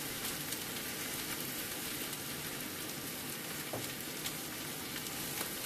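Cabbage and flour fry in a pan over a lowered flame, giving a steady, dense sizzle that runs evenly throughout with faint crackles and no talking.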